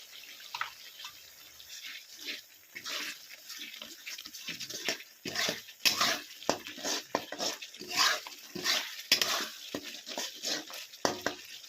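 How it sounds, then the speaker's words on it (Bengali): Spice paste being fried and stirred in a pan for a potato and soybean curry, heard as soft sizzling broken by repeated scraping and stirring bursts in an uneven rhythm, fairly faint and close, with no talking. "বন্ধুরা দেখো মশলাটাকে আর একটু কষিয়ে নেব"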